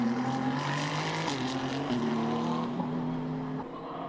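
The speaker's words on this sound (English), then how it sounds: "Working its way through the final corner, flashing past my commentary box and off down the hill." K-Tunes Racing Ferrari race car during qualifying at Suzuka, a steady loud engine drone with slowly shifting pitch as it works through the final corner and flashes past down the hill.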